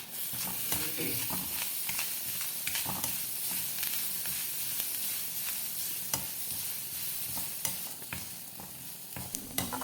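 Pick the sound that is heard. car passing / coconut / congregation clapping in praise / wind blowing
coconut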